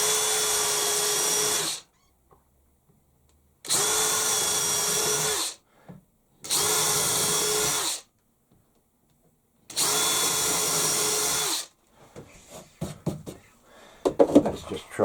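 Power drill boring holes through a block of wood held over the edge of a workbench, four loud sustained bursts of about two seconds each separated by quiet pauses, followed by faint knocking and handling sounds.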